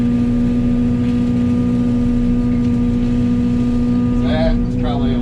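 A Yanmar Vio80 excavator running a Fecon forestry mulcher drones with a loud, steady low engine and hydraulic hum as it clears saplings such as small honey locust, with a brief higher whirring near the end.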